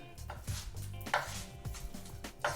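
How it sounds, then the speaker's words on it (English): Spinach being chopped quickly with a knife on a kitchen board for creamed spinach: a handful of close, irregular thuds and knocks with some scraping, with no talk. "Quick chopping, not much to it,"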